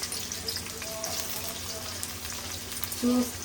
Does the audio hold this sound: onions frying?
yes